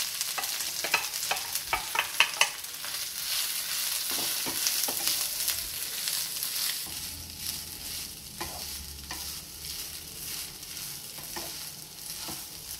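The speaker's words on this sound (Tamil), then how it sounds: "அப்போ நம்ம திருவி வச்சுருக்க தேங்காயையும் அந்த எண்ணெயிலே போட்டு நல்லா வதக்கிடும்" Grated coconut sautéed in oil in a pan with a pinch of asafoetida, a close sizzle and clattering stirring strokes early on that settle into a softer, steady frying hiss.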